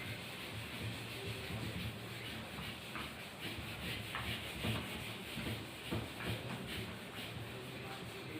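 Steady rubbing and wiping on a classroom board as writing is erased, a continuous dense scrubbing texture with a few brief louder strokes, close and fairly even throughout.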